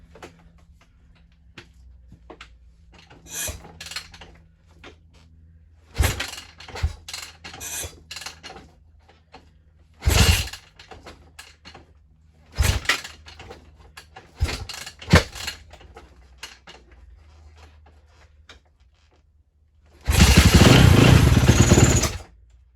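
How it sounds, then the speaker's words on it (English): A Yamaha YZ450F dirt bike engine backfires in scattered sharp pops and bursts over a low idle, ending in a sustained loud burst of engine noise. "Well, it's backfiring a bit."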